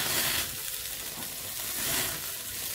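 Cumin seeds heating in hot oil for an Indian tadka, giving a steady, soft sizzle and crackle that swells slightly and continues without any talk.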